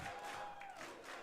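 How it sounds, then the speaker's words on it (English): Crowd at a Splatoon 3 tournament finals shouting and cheering, a wash of many voices with a whistle-like tone, fairly faint and continuous. "Shouts from the crowd."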